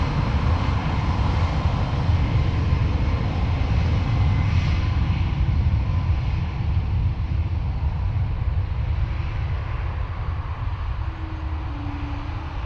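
An Aer Lingus Airbus A321XLR takes off from Dublin Airport, its engines delivering a loud, deep, continuous roar that slowly eases as it climbs away, with no talking heard.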